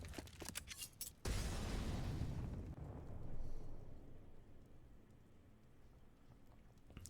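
A grenade detonates in a Counter-Strike match, a sudden heavy boom after some scattered shots, its low rumble rolling on and slowly fading over several seconds.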